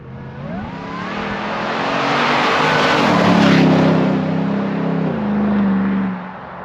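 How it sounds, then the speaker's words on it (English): A car's exhaust at full throttle, heard from close by as a loud, sustained engine roar that rises in pitch through the gears and then eases off near the end. "I know you just want to hear the exhaust, and this is the bit where you hear it going flat out"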